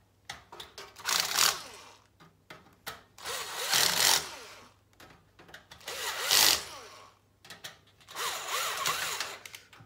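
An electric screwdriver on its lowest clutch setting drives screws into a GTX 1070 gaming PC during assembly, four whirring bursts of a few seconds each, close and loud, with the motor stopping between runs.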